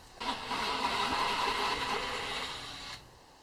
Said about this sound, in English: Engine's still on.